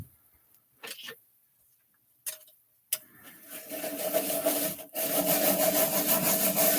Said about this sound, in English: And I'm rubbing it on the raised side of the embossing.